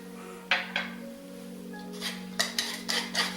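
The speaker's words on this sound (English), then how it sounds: "I'm going to whisk in also a 1/4 teaspoon of nutmeg" A whisk clinks against a bowl as nutmeg is stirred into a quiche mixture, giving a few quick scattered metallic taps, close and fairly quiet, with no talk over them.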